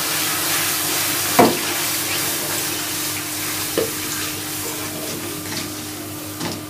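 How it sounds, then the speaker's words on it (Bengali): Half a litre of liquid milk being stirred into hot caramel in a pan, a soft, steady hiss and sizzle broken by a few faint scrapes of the spoon, close, with no talking. "এখন এখানে আমি হাফ লিটার পরিমাণে লিকুইড দুধ দিয়ে দিচ্ছি আর লিকুইড দুধটা দিয়ে একটুখানি নেড়েচেড়ে মিশিয়ে নিতে হবে"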